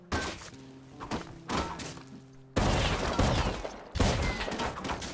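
Video-game gunfire strikes a vending machine in rapid bursts of dull, thudding impacts, louder in the later volleys, with no voices.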